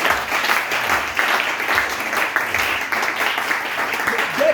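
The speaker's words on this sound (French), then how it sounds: "On acclame le Seigneur." A church congregation clapping and applauding together in acclaim of the Lord, a steady dense patter of hands that holds throughout the short stretch with faint voices beneath.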